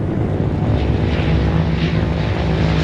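A propeller aircraft flies during a military airlift from air bases in Hanoi and Haiphong, a loud, steady droning engine roar that holds without a break.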